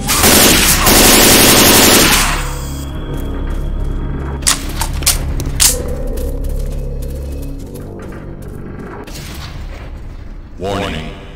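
Rapid gunfire bursts in the zombie shooter Left 4 Dead 2, a dense loud volley at first, then scattered shots and impacts over ongoing game ambience.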